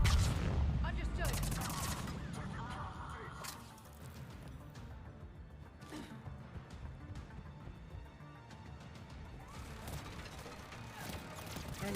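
Turret gunfire in the video game Mass Effect 3 crackles in rapid bursts of shots and clattering impacts, loudest at the start, with a voice speaking over the fire.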